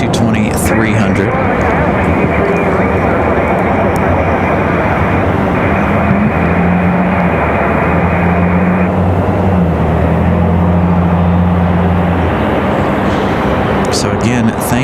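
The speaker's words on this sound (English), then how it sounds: "This is a JetBlue 684, and it is headed to Boston on that A220-300." A JetBlue Airbus A220-300 jet departs with a loud, steady engine roar that fills the whole stretch, broadband and constant, with tonal hums shifting as it climbs away from the airport.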